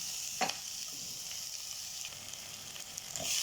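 Onions sautéing in a pan for sinigang with red lapu-lapu give a steady, fairly quiet sizzle, with a few brief clinks or scrapes of a utensil near the start and end.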